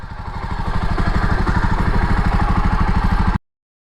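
A 2021 Jawa Perak bobber's single-cylinder motorcycle engine idles steadily up close, a loud, even thumping pulse that cuts off abruptly near the end.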